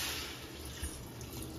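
Water is poured into a pot of chicken biryani, heard as a faint, steady, hissing trickle with no voices.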